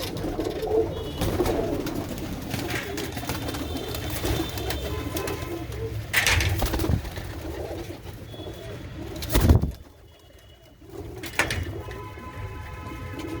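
Racing pigeons coo in repeated soft, throaty calls, fairly close, with scattered rustling and a brief louder bump partway through.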